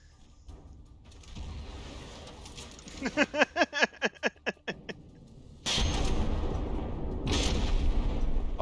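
Fragmentation shells bursting in the tank battle game From The Depths: a rapid string of about eight sharp blasts in quick rhythm, followed by a heavy, sustained rumbling roar of explosions and debris.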